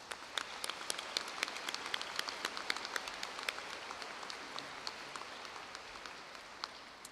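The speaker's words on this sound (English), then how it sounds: "a round of applause" A large graduation audience at Prairie High School claps steadily, a fairly distant, even wash of applause that holds throughout without any talking.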